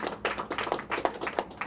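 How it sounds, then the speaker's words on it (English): An audience at a televised debate on the Trump versus Clinton election applauds in a brief, close burst of rapid, dense hand clapping. "Give yourselves a round of applause."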